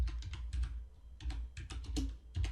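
Computer keyboard clicks and key presses during copying and pasting of C++ code, close up, in quick clusters with short gaps, no voices.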